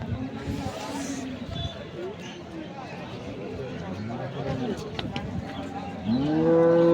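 Dairy cows moo amid a busy crowd of chattering voices at Ambari cattle market in Dinajpur, Bangladesh, with one loud, close low moo near the end.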